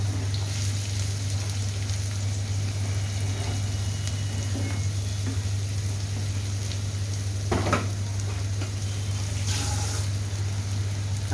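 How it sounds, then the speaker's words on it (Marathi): Chopped onion frying in hot oil with garlic in a pan, a steady low sizzle running throughout with occasional stirring clinks and scrapes, close and moderately loud. "कांदा छान परतून घ्यायचा आहे."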